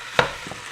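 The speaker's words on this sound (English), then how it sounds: "I'm just going to mix that up real good together and allow it to fry along with the ground beef" Ground beef frying in a pan with diced onion and sweet pepper, heard as a soft steady sizzle with one sharp scrape or clack from stirring and a fainter knock after it, very brief.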